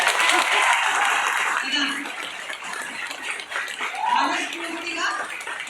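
An audience at a motivational seminar claps loudly, the broad wash of applause strongest at first and then thinning as a voice talks over it, with some light chuckling.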